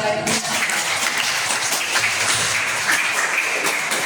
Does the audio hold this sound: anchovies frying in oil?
no